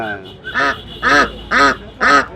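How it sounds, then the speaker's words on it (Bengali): A Pekin duck at a village livestock market gives four loud, nasal quacks in a steady rhythm, close by, with a fainter call just before them. "এটাকে বেজিং হাঁস বলে নাকি"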